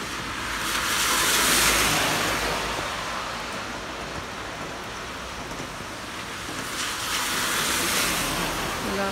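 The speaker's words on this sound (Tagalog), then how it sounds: "malakas ang ulan" Heavy rain falls outdoors on a cold evening near a bus stop, a steady broadband wash that swells and recedes slightly, with no voices over it.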